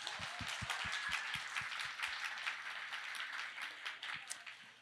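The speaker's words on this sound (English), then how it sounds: "Big round of applause." Steady applause from a mingling audience at a storytelling-marketing meetup, moderately loud and continuous for the whole stretch, with a few dull low thumps near the start.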